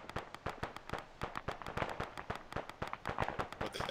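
Gunshots fired at long range crack out in a quick, uneven series of sharp reports, faint and repeated in close succession with brief gaps.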